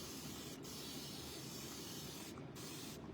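A spray bottle misting a crafting board, one steady close hiss lasting about three seconds with brief breaks near the end, quiet and without talk.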